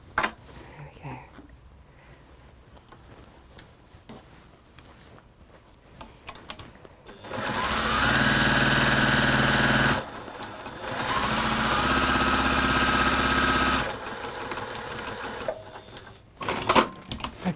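A sewing machine stitches fabric in two loud, steady bursts of rapid mechanical whirring separated by a short pause, with quieter handling sounds before and after.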